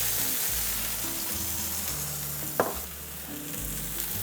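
Flank steak sears in ghee in a hot pan, a steady close sizzle and frying hiss with low stove hum and a single sharp clink partway through.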